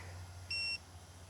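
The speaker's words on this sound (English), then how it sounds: "oh, something else is beeping." A short, steady high-pitched electronic beep from a drone's beeper, lasting about a quarter second, sounding alone against a low background hum.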